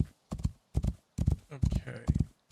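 Horse hooves clip-clop in the video game Rising World, a close, steady run of paired footfalls with short gaps between them.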